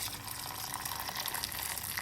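Hot boiling water is poured from close by into a pot over smoked chicken rolls, a steady, continuous gushing splash throughout with no talk.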